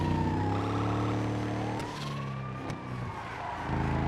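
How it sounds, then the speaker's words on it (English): An ambulance siren in a GTA FiveM game wails, sweeping up and down over a loud engine drone, shifting pitch as it passes close by. "I passed an ambulance."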